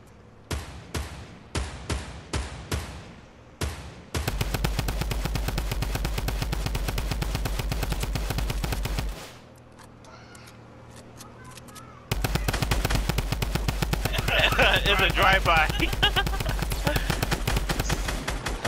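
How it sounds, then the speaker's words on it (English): Rapid automatic gunfire in the Fortnite video game hits the player: a few separate shots, then long sustained bursts, a brief quieter gap, and another heavy burst. All of it is loud and close, with a faint voice mixed in. "Drive by. I'm getting shot up."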